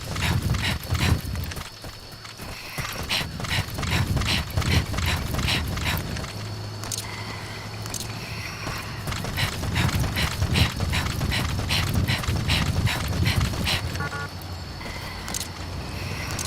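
Horse hooves clip-clop in a steady trotting rhythm through Metal Gear Solid V: The Phantom Pain, blended with mechanical clicking and a low engine-like drone, moderately loud with no voices.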